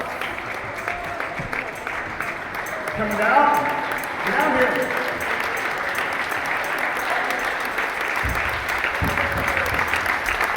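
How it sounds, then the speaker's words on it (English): Crowd applause and cheering at a welcome-home rally for high school state football champions, a steady wash of clapping throughout, with a voice calling people down over it. "let's give them a round of applause"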